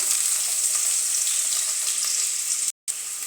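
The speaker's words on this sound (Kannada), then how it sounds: "ಈರುಳ್ಳಿ ಸ್ವಲ್ಪ ಚೆನ್ನಾಗಿ ಗೋಲ್ಡನ್ ಫ್ಲೇವರ್ವರೆಗೂ ಬರೋವರೆಗೂ ಸ್ವಲ್ಪ ಫ್ರೈ ಮಾಡುವ" Chopped onion and garlic frying in hot oil in a pan, a steady close sizzle throughout with a brief dropout near the end.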